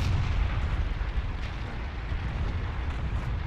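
Rumbling low booms of artillery fire in the World of Tanks battle game, dense and continuous at moderate level with no distinct single blasts and no speech.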